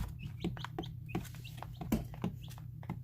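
Young chicks in a brooder make quiet chirps and peeps, short and scattered above a low steady hum, heard faintly from nearby with no speech.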